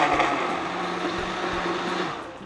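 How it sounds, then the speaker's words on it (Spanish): A blender blending tomato, chili and onion for a salsa runs steadily at high speed, a loud continuous whirring grind that holds and then tapers slightly at the end. "Esto es solamente licuar, todo a la licuadora"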